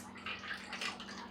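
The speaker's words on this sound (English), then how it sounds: "Now let's pour our drinks." A cocktail, the Harlem Sweetie, trickles and splashes briefly and softly as it is poured from a shaker into a coupe glass with no ice. A faint steady hum sits underneath.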